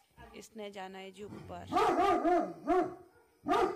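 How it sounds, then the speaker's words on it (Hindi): Dogs in a rainy Himachal Pradesh village bark in several loud close bursts, mixed with someone speaking over them. "आज इधर सब कुत्ते भौंक रहे हैं"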